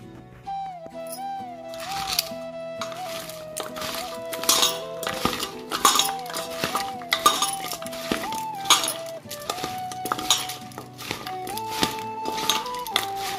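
A utensil clinks repeatedly against a bowl as food with mustard seeds is mixed, making irregular sharp taps and scrapes close by over steady background music.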